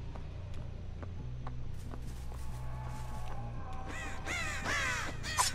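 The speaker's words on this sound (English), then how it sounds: "These crows need to go somewhere." Crows caw in the Dead by Daylight video game's Haddonfield map, harsh calls coming late over a low rumbling ambience with soft footstep-like taps, fairly close and without talk.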